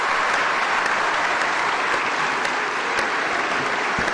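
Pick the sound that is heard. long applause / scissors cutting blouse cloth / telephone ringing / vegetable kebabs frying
long applause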